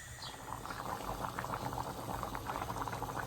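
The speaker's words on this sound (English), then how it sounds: "so it's been boiling for about 5 minutes" Liquid boils in a pot with a soft, steady bubbling and gentle popping, close by and quiet, with no voices.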